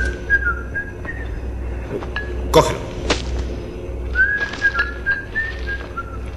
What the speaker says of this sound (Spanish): ¿Qué canción es esa que silbas?